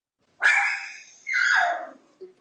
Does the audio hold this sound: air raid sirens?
no